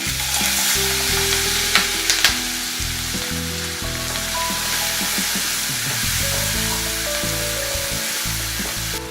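Chopped medium onions fry in a pan with a steady, loud sizzle throughout, broken by a few sharp clatters of stirring as the pieces are turned.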